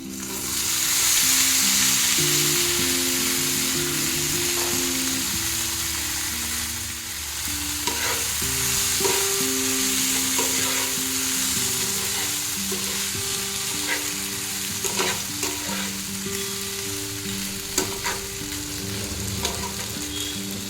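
Boiled macaroni pasta stir-fried with vegetables in a pan: a steady sizzle with repeated scraping and stirring strokes of a spoon, close and continuous with no talk.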